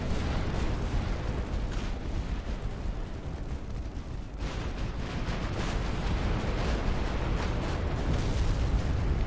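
A warship's magazine goes up in a flash fire in a naval battle game set in 1900, a sustained roaring rumble of explosions and bursts, loud and dense, briefly dipping before swelling again.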